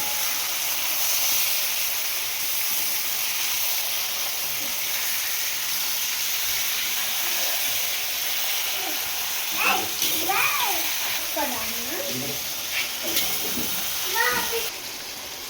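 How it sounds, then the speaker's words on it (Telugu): Chicken deep frying in a pan gives a steady, loud hiss and sizzle throughout, with a voice and other speech breaking in over it during the second half. "మనకి చికెన్ ఫ్రై రెడీ అవుతుంది. ఇది ఇంకా మంచిగా డీప్ ఫ్రై కావాలి మనకి."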